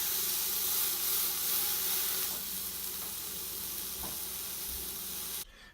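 Meat searing and browning in a pressure cooker pot, a steady broadband sizzle that runs continuously at moderate level, with a few faint stirring knocks, and no voices.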